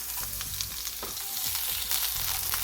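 Chopped onion and garlic sauté in a hot pan for a vegetable dish of buko and patola, giving a steady close sizzle with a few scraping stirs and no talking.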